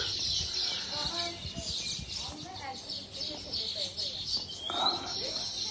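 Small birds chirp in quick, scattered bursts at a moderate distance near their nests, mixed with a steady high-pitched buzz and other background noise; a voice talks faintly underneath.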